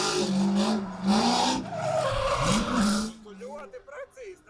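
Pontiac Trans Am drift car sliding sideways on a track, tyres squealing and skidding with engine noise over several seconds, with voices talking over it.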